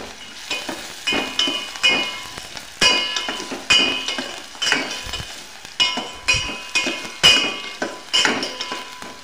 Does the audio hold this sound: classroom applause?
no